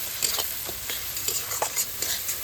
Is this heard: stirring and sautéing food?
yes